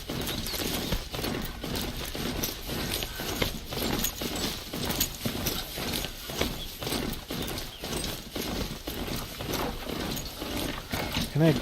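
A horse in the video game Horizon Zero Dawn walks along a path, its hooves clip-clopping in a steady, even rhythm throughout, moderately close, with game ambience and a voice talking over it.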